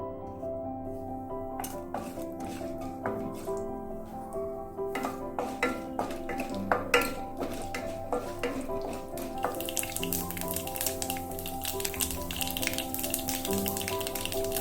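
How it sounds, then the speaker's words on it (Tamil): Mustard seeds, urad dal, fenugreek and asafoetida crackle and splutter in hot oil for a Tamil small-onion kuzhambu, a steady dense sizzle dotted with sharp pops throughout, with no talking. "கடுகு வெந்தயம்லாம் பொரிஞ்சிடுச்சு."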